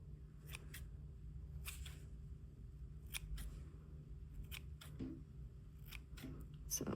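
Scissors cutting into needle-felted wool on a bunny figure to thin it, several quick crisp snips spread across the stretch, faint and close over a constant low hum.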